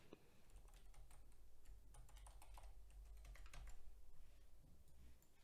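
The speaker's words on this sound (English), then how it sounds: "I'm going to type it off screen." A password is typed on a computer keyboard, a quick irregular run of soft key clicks, faint and close, with a low hum underneath and no speech.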